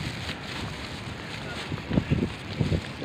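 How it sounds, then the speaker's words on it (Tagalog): Wind buffets the microphone in a steady roar, with a few louder gusts thumping toward the end. "Lakas ang hangin dito sa aking tiki na pasukan."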